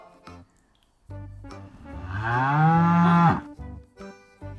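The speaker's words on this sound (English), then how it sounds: "What was that sound? Yes, it's a cow." A cow lets out one long, loud, rising moo that swells and holds before cutting off, framed by brief bursts of other sound before and after.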